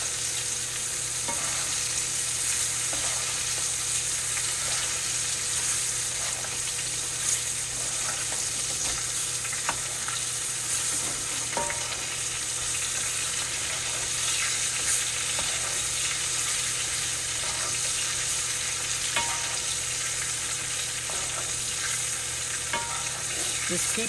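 A ribeye steak sizzles loudly and continuously in a pan of seasoned brown butter while being basted, a dense crackling hiss with small spoon scrapes and clicks scattered throughout, no voices.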